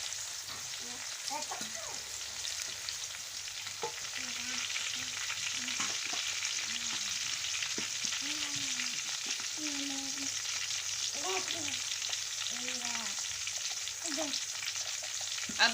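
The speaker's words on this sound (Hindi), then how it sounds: "अब हम इसमें 4 से 5 अदद हरी मिर्चें और 1 टमाटर कटा हुआ वो डालेंगे और इसको भी अच्छे से फ्राई करेंगे।" Four or five green chilies and a chopped tomato frying with masala in a pot for Lahori-style matar pulao, a steady sizzle and stirring sounds running continuously while a voice talks faintly in the background.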